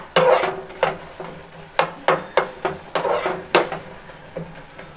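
Tomatoes and mint leaves are sautéed in a pan, heard as a string of sharp, rhythmic utensil scrapes and taps against the metal, about a dozen strokes over a faint sizzle.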